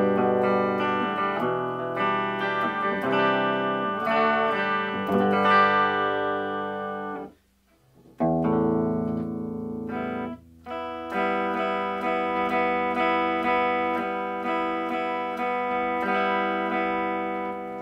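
A Marshall MG15DFX electric guitar amp with its FDD switch engaged, ringing chords and single notes with a slightly driven tone, a brief pause midway, no talking.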